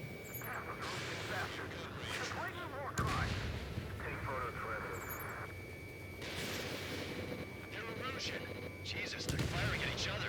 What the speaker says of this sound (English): they're firing at each other